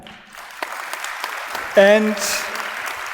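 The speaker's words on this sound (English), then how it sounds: "Big applause once again." An audience applauds at a live on-stage podcast show at the DMEA 2024 conference; the clapping stays fairly soft and scattered while a voice speaks over it.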